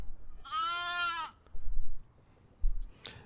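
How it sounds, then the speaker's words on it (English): One myotonic Boer goat in a paddock lets out a single loud, wavering bleat close by, followed by quieter low rustling and thumps and a brief faint noise at the end. "we got Lamb Chop and Fred and Barney, our two myotonic boar goats, moved up here into the paddock now"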